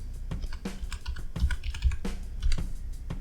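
Quick typing on a computer keyboard while entering a word into the Windows 10 search box, a run of close, crisp clicking keystrokes in uneven bursts, with no talking.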